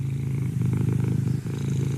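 A cat purring heard over a radio broadcast, a steady rhythmic low rumble, close and continuous, with a short dip midway.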